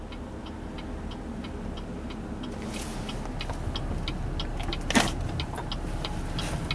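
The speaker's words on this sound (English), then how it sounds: "put on your left turn signal" A car's left turn signal ticks in an even, steady rhythm over a low engine hum inside the vehicle, with one brief louder knock near the end.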